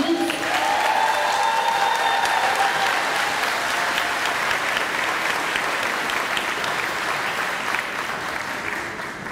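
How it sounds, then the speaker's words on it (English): Loud, sustained applause from an audience at an elementary school fourth grade send-off, a dense continuous patter of many hands with light cheering, slowly easing toward the end. "Can we get a round of applause for all of our students?"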